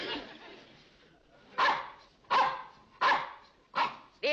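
A dog barks four times in a steady, evenly spaced rhythm, each bark loud and close, over a low murmur of background talk in a boarding-house setting.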